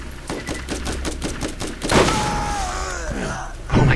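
Gun fired in the video game Borderlands, a rapid burst of crackling shots followed by a heavier blast and a ringing, warbling tail, with a voice briefly audible over the gameplay.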